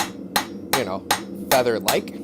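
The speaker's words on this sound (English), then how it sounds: "my hammer blows are hitting pretty well at the same spot on the anvil" Blacksmith's hammer striking hot steel on an anvil during forging in a live shop, about six sharp ringing blows at a steady rhythm, close and loud, with someone talking between the strikes.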